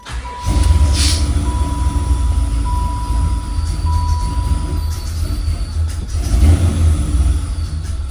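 A car engine revving under throttle, a loud, close, sustained low roar that swells and eases, with a faint steady tone over it.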